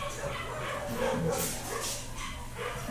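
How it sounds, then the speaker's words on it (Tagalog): Neighbors' dogs bark and yip in the distance at night, faint repeated barks mixed with a low background hum and a few murmured voices. "nagwawala yung mga aso ng kapitbahay"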